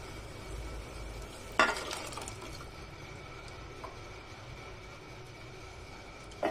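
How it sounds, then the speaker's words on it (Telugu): Tamarind juice splashes briefly into a pot for spicy pulihora, followed by a faint, steady simmering hiss, quiet throughout with no voices. "ఇప్పుడు పులుసు అందులో గుమ్మరిస్తున్నానండి."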